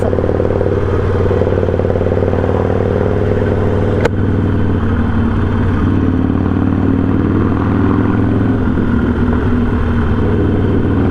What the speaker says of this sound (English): I can hear Deej's bike just a tiny bit because mine is so loud